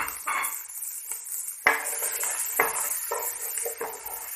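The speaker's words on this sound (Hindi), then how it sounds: "अब इसमें हम शिमला मिर्च डालेंगे।" Capsicum sautés with browned onion in a pan under a constant close sizzle, with several spatula clinks and scrapes at irregular intervals and one sharp knock partway through. Nobody speaks.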